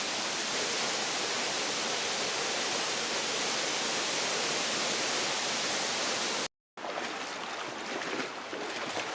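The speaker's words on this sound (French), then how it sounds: "La fonte des neiges dans les hauteurs des montagnes et dans les sources d'eau continue d'améliorer le débit de ces cascades" Waterfall cascades in the Babor Atlas mountains, swollen by melting snow, roar as a broad steady rush of water close by, with a brief cut before the torrent resumes.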